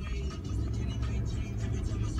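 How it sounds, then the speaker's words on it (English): Steady low engine rumble and road noise from a car being driven, continuous and close throughout, with faint talk mixed in underneath. "So I'm driving my mom's car because I'm not driving mine."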